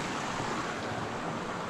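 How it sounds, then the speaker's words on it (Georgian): A small waterfall rushes in a steady, broadband wash of flowing water, close and continuous with no voices. "პატარა ჩანჩქერი"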